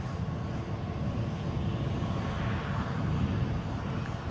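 A NetJets Bombardier Global 5000 business jet lines up on the runway at Edinburgh airport, its engines producing a steady, fairly loud broad rumble throughout, with no talking.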